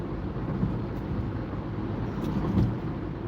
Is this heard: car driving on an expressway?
yes